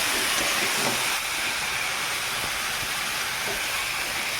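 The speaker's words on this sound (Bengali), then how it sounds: "ম্যারিনেট করে এখন চলো সুন্দর করে ভেজে নেব।" Marinated chicken pieces fry with tomato in a pan for Bengali-style chicken kosha, giving a steady, loud, close sizzling hiss that holds evenly throughout with no talking.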